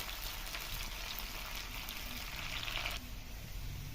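Steady crackling sizzle of garlic and onion frying in hot oil, close and continuous, with no voices.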